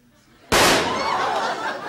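A single sharp, loud revolver shot fired during a quickdraw demonstration on a 1981 Australian television broadcast, cracking suddenly out of a quiet room and then ringing off with reverberation.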